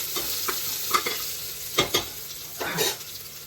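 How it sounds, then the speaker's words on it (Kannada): Ginger garlic paste frying in a pan with oil as a utensil stirs it through, a steady close sizzle broken by several scraping strokes over about three seconds. "ಶುಂಠಿ ಬೆಳ್ಳುಳ್ಳಿ ಪೇಸ್ಟ್ ಹಾಕಿದ್ಮೇಲೆ ಒಂದು 2 ರೌಂಡ್ ಹಿಂಗೆ ಆಡಿಸ್ಕೊಳ್ಳಿ"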